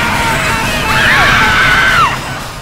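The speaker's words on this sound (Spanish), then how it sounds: "con un espantoso chirrido de cables y gritos de terror" Terrified people scream together in a sudden burst as a falling elevator's cables shriek, one high wailing scream rising and holding for about a second over a dense, loud background din.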